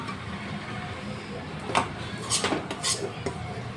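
A spoon scraping and clinking in a metal pot while dill greens and lentils are stirred together, a few sharper knocks over a steady kitchen hum.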